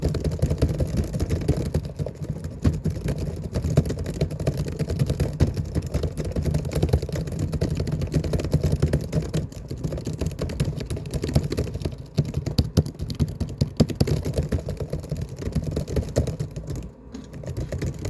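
Fast, aggressive typing on a computer keyboard clatters in a dense, unbroken stream of keystrokes for the whole stretch, close and fairly loud, with no talking.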